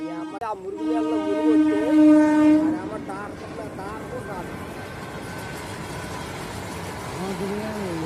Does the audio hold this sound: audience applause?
no